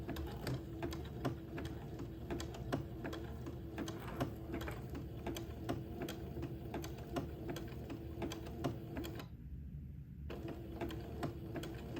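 A sewing machine zigzag-stitching lace onto a baby layette garment, running at a steady, even clatter, close and moderately quiet, with a brief pause near the end before the stitching resumes.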